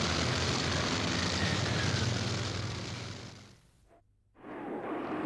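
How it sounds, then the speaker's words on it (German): A WW2 Luftwaffe fighter aircraft's engine gives a loud, sustained propeller roar that fades briefly to near silence before swelling back up. "Nur wenige Jäger konnten überhaupt noch starten."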